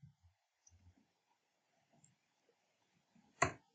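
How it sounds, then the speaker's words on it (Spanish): A quick, faint click from a computer mouse while opening a file in a .NET project, one sharp tick after soft room noise. "damos doble clic"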